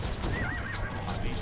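Horses in Age of Empires 2: Definitive Edition neigh and whinny with a rising call, over a steady bed of clip-clopping hooves from a cavalry battle, loud and continuous throughout.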